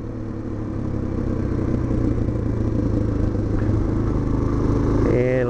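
A Suzuki DR-Z 400 SM motorcycle engine drones steadily while riding, a loud, close, continuous mid-pitched rumble with wind noise that holds even throughout and rises briefly in pitch near the end.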